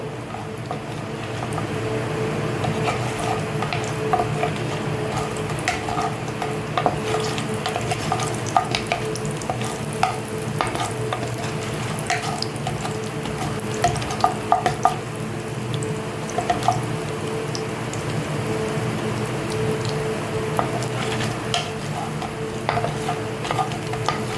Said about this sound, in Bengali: আর দিচ্ছি একটু ভেঙে রাখা বড়িটা হালকা হাতে একটু নেড়ে নেব।